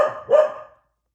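A dog having a bad day at a house gives two sharp, close barks in quick succession, then falls silent.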